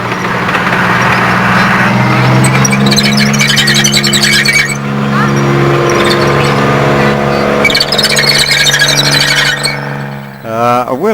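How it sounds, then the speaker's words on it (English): Historic vehicles at a May 1998 Rushden cavalcade drive around an arena to park, a steady loud low engine drone with squeaks near the end, heard continuously under background talk. "I'll leave the rest of the vehicles to come around and park up"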